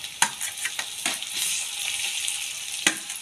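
Garlic paste hitting hot oil with lightly fried onions in a pan, a steady sizzle punctuated by several sharp spatula scrapes and clacks, close and moderately loud.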